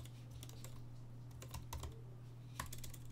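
Typing on the keyboard of a 14-inch M1 Pro MacBook Pro, quiet scattered key clicks in short bursts over a low steady hum.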